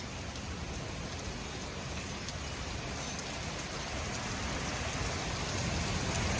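Heavy rain arrives during a severe supercell thunderstorm, a dense and steady hiss of drops pounding nearby surfaces that swells slightly toward the end, with no voices.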